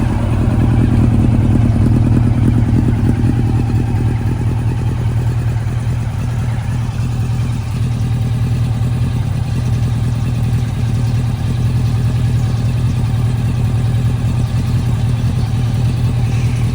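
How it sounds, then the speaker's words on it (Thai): A Honda CB750 motorcycle with a custom exhaust runs steadily at idle, its loud, even engine drone continuing unbroken and close up with no talking. "ลองฟังเสียงเครื่องดูนะครับ"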